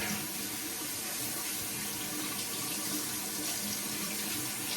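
A tap runs steadily into a sink, a close, continuous gushing splash wetting a badger hair shaving brush, with no talk over it.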